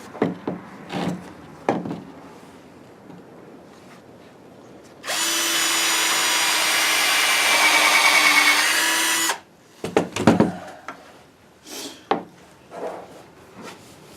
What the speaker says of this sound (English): I'm going to drill a couple holes, put a couple screws in it.